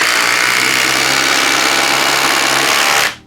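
Flex cordless driver sinking a 5-inch SPAX power lag screw on a 2.5 amp-hour battery, a loud, close, continuous buzzing whir that stops abruptly at the end, with no talking.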